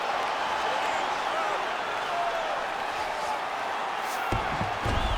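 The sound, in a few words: arena crowd cheering at MMA fight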